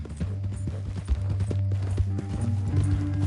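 Horse hooves clip-clop at a steady walking pace in a Western video game, with the rider tied up on horseback on the way to a city, heard over a low rumbling background and game ambience.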